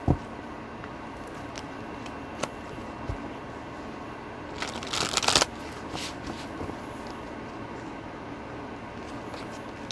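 Tarot cards being shuffled by hand, soft papery riffling and flicking with a brief louder burst of shuffling midway, quiet and close, no talking.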